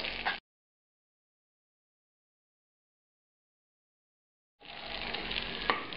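Duck skin sizzling and crackling in its own rendered fat in a pan, heard as short steady bursts at the start and end with dead silence in between.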